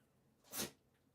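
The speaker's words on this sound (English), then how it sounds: "Thank you, boy, for sneezing." A single short, faint sneeze from an animal, a quick breathy burst in an otherwise quiet room.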